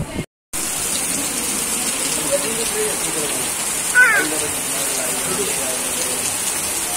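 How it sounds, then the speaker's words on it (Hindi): Steady heavy rain hisses outside, a constant wash of drops with a brief louder splash partway through. "हम लोग आपको बारिश दिखाते हैं बाहर कितनी तेज बारिश हो रही है यहाँ पर"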